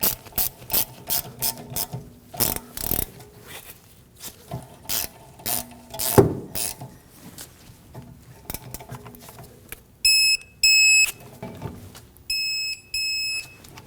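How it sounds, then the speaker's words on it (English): A ratchet torque wrench tightens brake caliper bolts on a 2014-2019 Toyota Corolla during a rear brake job, giving bursts of close, sharp clicking in short runs, followed by a few electronic beeps near the end. "We'll snug these up and torque them to 26 foot-pounds."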